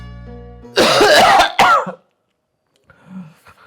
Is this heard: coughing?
yes